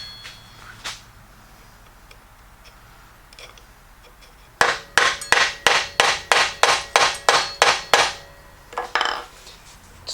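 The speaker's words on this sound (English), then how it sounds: "Just make sure you get rid of all those shavings before you hammer it down that last little bit." A turned wooden tool handle is hammered down onto its base with a quick run of about a dozen sharp, evenly spaced knocks, close and clear, after a few scattered light taps and scraping.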